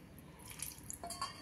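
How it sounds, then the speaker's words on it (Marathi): A faint, quiet trickle of water poured from a spoon into a pressure cooker, with a couple of small drips and splashes, close and brief. "या चमच्याने मी 2 चमचे पाणी घालणार आहे"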